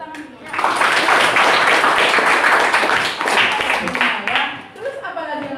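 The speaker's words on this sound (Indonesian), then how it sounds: "Bagus, tepuk tangan dulu." Indonesian schoolchildren clapping together in a classroom during a lesson, a loud rhythmic burst of many small hands that swells and then fades, with children's voices mixed in near the end.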